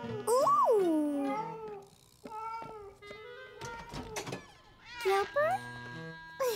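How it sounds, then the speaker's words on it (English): A cartoon cat meows loudly and drawn-out near the start, followed by further chirpy cat-like calls and squeaky vocal sounds, close and clear against a quiet background, with a child-like voice mixed in. "Silly cat."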